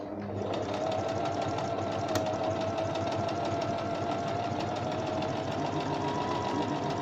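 A Brother BM 3700 sewing machine stitches a buttonhole bartack in reverse, a fast, steady mechanical whirring and rhythmic needle chatter running continuously at close range.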